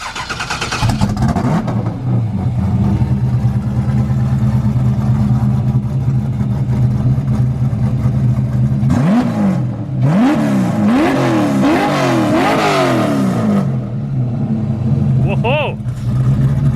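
A Ford Mustang race car with a big cam idles loudly and lopes close by, then gets several sharp revving blips midway, with people talking over the rumble.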